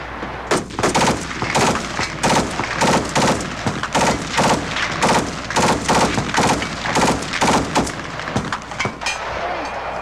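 Rapid volleys of gunshots ring out at a 1986 Second Chance combat shooting tournament, loud and dense, firing in quick bursts with brief pauses across the whole stretch, close and echoing outdoors.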